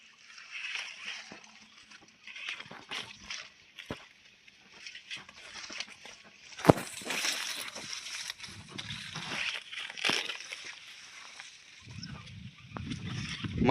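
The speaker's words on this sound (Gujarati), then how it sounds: "આ પાણી જાય છે પાળિયામાં" Water runs and sloshes along an irrigation channel into a field of crops, a steady splashing flow close by with brief louder gushes and some low rumble near the end.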